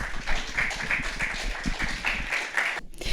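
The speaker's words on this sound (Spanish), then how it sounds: "lo recibimos con un fuerte aplauso" An indoor audience claps warmly and steadily for several seconds to welcome film director Federico Sosa onto a stage, a dense patter of many hands that breaks off briefly near the end.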